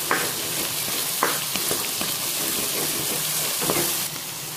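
Chicken fries in hot oil with ginger paste, a steady dense sizzle with crackling spatter throughout, punctuated by several brief scraping stirs from a utensil against the pan, close and moderately loud.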